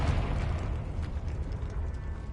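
A Confringo spell explosion in the Hogwarts Legacy video game lands as a single deep, rumbling burst at the start, then fades into a gritty, low mechanical tail.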